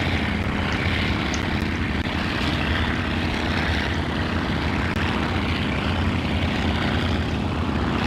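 A Spartan Executive propeller airplane in FSX climbs after takeoff, its engine giving a steady, loud, unbroken drone with a low rumble throughout, heard alone.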